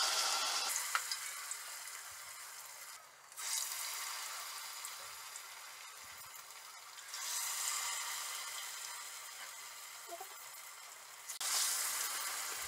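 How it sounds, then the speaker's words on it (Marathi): Batter-dipped potato vadas deep frying in hot oil give a steady, soft sizzle that swells in louder bursts as more pieces are added. "तर अशा प्रकारे हे जे बटाटे आहेत ते आपण या पिठामध्ये डीप करून तेलामध्ये अशा प्रकारे सोडून द्यायचे आहेत"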